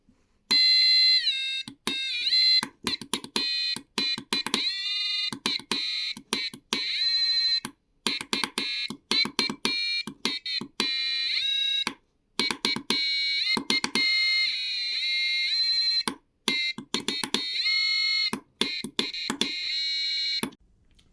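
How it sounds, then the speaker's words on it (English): A homemade electronic instrument built around a piezo speaker and controlled by a button, giving shrill, buzzy high-pitched beeps in rapid bursts and brief runs. The notes are loud and stop and start with short gaps. "This project mainly focuses on one new component, the Piezo speaker."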